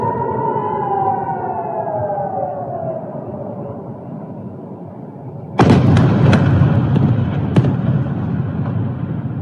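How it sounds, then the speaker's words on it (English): A bomb explodes, caught by a security camera: a loud, sudden broadband blast with several sharp cracks and a rumbling tail, following a wailing siren. "once the bomb hits, you'll see that the explosion knocks the camera like off its stand"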